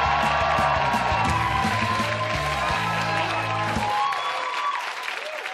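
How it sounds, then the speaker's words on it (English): An audience claps and cheers for a stand-up comedian coming onstage, dense applause over music that fades after about four seconds. "Please, everybody, let's give a big round of applause to my friend, Brent Sullivan, everybody."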